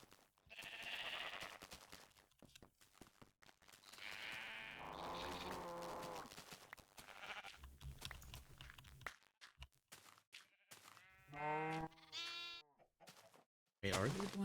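Sheep bleat several times in Minecraft, their wavering calls mixed with a talking voice and light footsteps.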